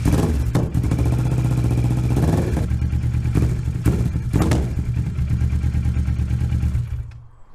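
A motorcycle engine idles and runs steadily after an oil and filter change, with a low rumbling drone and a few sharper revs, close by, before cutting off near the end.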